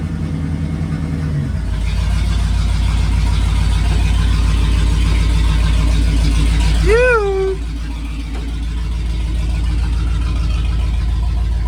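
A 1979 Ford Bronco on 35-inch tyres runs and drives with a loud, close engine rumble that rises in revs, then settles, with a squeal partway through and people talking over it.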